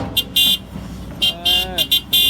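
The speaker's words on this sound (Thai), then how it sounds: "จัดแตรลมเลยเนี่ย" Several loud, short honks from a truck's air horn come in quick succession, each a bright, brassy blast separated by brief pauses.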